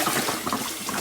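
Hot tap water runs steadily into a glass baking pan, a loud continuous splashing hiss with no voices.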